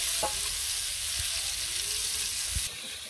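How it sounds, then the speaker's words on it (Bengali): Steady, loud hiss of fish frying in hot oil, a continuous sizzle with a few low bumps from stirring or handling. "মাছটা ভাজুম"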